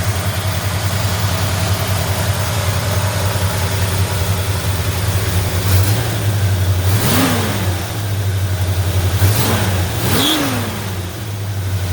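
A 440 V8 engine in a 1964 Plymouth Sport Fury, running cold on choke with a PTI H-pipe exhaust, idles with a deep burble, then blips its throttle twice in quick, loud revs before settling back to idle.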